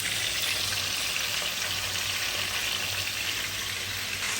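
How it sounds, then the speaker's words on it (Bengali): Eggs fry in a hot pan for a birthday egg roast, giving a steady, loud, close sizzle that never lets up, with no voices. "এটা আসলে বেশি ভাজা যাবে না, বেশি ভাজতে রাবারের মতো হয়ে যাবে"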